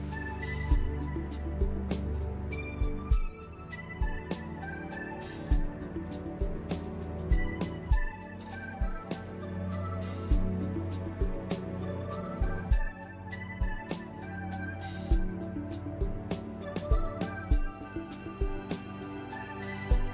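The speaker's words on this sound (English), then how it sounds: "come up with a synth sound that sounds kind of like this pluck little thing." Synth-like plucked sampled instrument soaked in reverb, rapid repeating plucks in a steady rhythmic pattern over a fuller backing of sustained tones and low notes, moderately loud and continuous.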